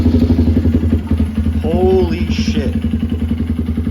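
A 2023 Honda Grom motorcycle with a newly fitted Vance & Hines exhaust idles close by with a rapid, throbbing pulse, revving briefly in the middle, while a person speaks over it.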